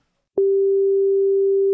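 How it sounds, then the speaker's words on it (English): A pure synth sine wave tone begins abruptly after a brief silence and holds steady, loud and unwavering, alone to the end. "Let's make that not annoying with a sine wave."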